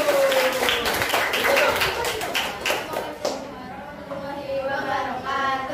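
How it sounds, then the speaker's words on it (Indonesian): Students in a classroom clap for the first group, a brief burst of scattered hand claps and taps mixed with chatter and voices, the clapping fading after a few seconds as a teacher's voice continues. "Beri tepuk tangan ke kelompok 1."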